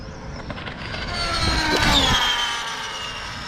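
An Arrma Limitless RC car runs at full throttle, its high electric whine swelling as it approaches, peaking near the middle and fading as it passes, with no talking.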